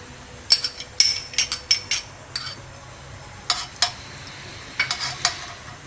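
Ghee goes into a hot pan and is stirred. Sharp, close metallic scrapes and clinks come in irregular clusters over a faint background, with a quiet sizzle between the strokes.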